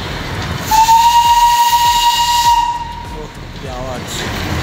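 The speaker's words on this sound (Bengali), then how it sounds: "এই আসছে হচ্ছে আমাদের স্টিম ইঞ্জিন।" Darjeeling steam engine train approaching, a loud long whistle over rhythmic chuffing and hissing steam, close and forceful, with a faint voice in the background.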